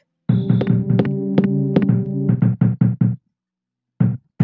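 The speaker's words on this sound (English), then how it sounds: "Someone's knocking at the door. What an annoying knock." Knocking at a door in the EarthBound video game, a series of sharp, loud synthesized knock tones in quick groups followed by a pause and two more knocks, with no talk.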